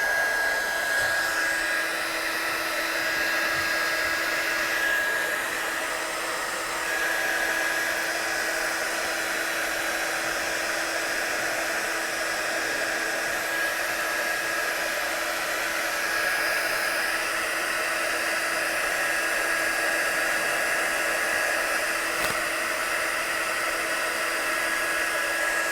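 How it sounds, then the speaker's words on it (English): Steady, continuous whoosh of a Eureka heat tool blowing hot air over stamped and watercoloured craft work on a foam mat, running close and unbroken with a faint high whine throughout and no speech. "when you are heating your work in your Eureka, not to take the heat direct to the foam mat underneath"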